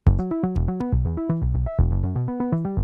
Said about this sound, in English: what you're hearing right now is Chaos generating a sequence